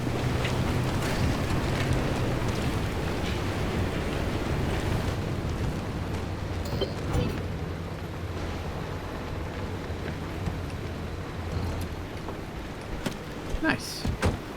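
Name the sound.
wind and storm in the video game Pacific Drive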